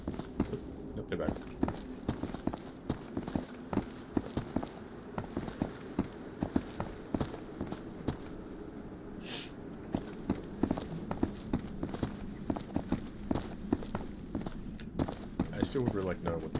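Footsteps of a player character in a video game, a steady run of soft repeated steps at close range with game ambience and talk over them.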